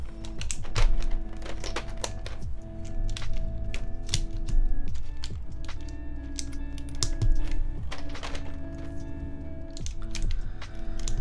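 Clacky, steady keystrokes from a custom mechanical keyboard fitted with PBT keycaps, typed close up in quick bursts with occasional heavier modifier-key thocks, alone without any talk.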